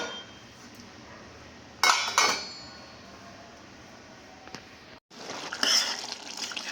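Metal lid set onto a pan of cooking cucumber curry, with a few clattering clinks near the start, a faint tap, and a louder rattle of metal near the end against a quiet kitchen background.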